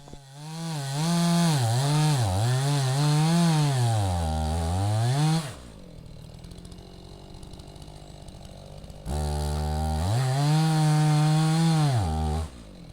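A chainsaw cuts through a 162-year-old Douglas fir log, running loud and close at full throttle in two long bursts, with the revs rising and falling under load. Between the bursts it drops back to a quieter idle.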